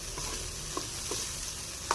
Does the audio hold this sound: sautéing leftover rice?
yes